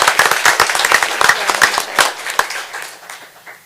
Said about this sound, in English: So if you will give them a round of applause